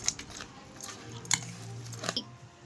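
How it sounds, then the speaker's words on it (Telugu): Spoon scraping and clinking against a bowl while Kurkure chaat is stirred and mixed, with soft crunchy squishing between a few sharp metallic taps, close and moderately quiet. "ఇప్పుడు మంచిగా నీట్గా మిక్స్ చేసుకోవాలి"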